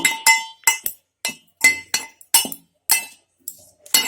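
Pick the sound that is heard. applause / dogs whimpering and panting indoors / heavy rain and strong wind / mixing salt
mixing salt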